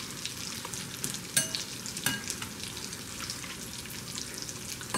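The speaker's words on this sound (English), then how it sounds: "So once your bacon gets as crisp as you like it, you're gonna turn it off and drain it." Bacon frying in a pan, a steady, close hiss and crackle with a couple of sharper pops, heard alone without talking.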